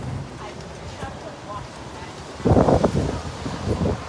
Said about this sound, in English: It's a little windy, apologize.